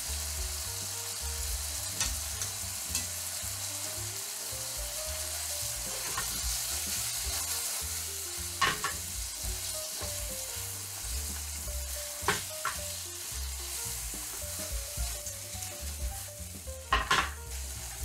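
Spaghetti noodles stir-fried with tomato sauce in a pan, a continuous close sizzle with occasional scrapes and taps from the utensil, no voices.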